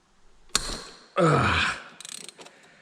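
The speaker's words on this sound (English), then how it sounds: "So this is a 14 mil socket and this is an 8 mil Allen wrench." Socket wrench with a 14 mm socket breaking loose the rear sprocket bolts on a Yamaha Raptor ATV, heard as a sharp crack followed by a long grinding, groaning ratchet strain and a few lighter clicks, close and alone.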